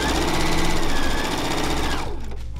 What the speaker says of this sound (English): And then you just start stitching.